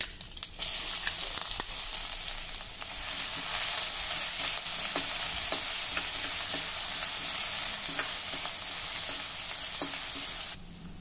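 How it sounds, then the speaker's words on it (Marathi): Mustard seeds, cumin and crushed garlic sizzle and sputter in hot oil in a pan, a steady close frying hiss with scattered pops and spoon stirring, no voices. "आलं लसूण हलक्या तांबूस रंगावर परतून झालं"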